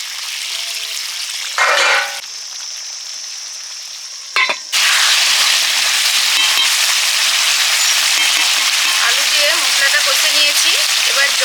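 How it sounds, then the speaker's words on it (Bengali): Pre-fried potatoes dropped into a hot pan of salted, spiced silver carp curry: after brief scraping and stirring, a loud, continuous sizzle erupts and holds steady close by, with faint voices underneath. "লবণ মশলা কষানো হয়ে গেছে এবার ভেজে রাখা আলুগুলো দিয়ে দিচ্ছি"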